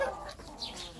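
New Hampshire hens clucking close by in short, soft bursts, with light outdoor background noise and no talking.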